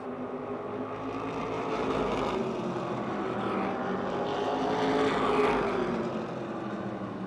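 Race cars lap the Motordrome Speedway oval, closely bunched, and their engines make a distant, blurred drone that swells and fades as the pack sweeps past.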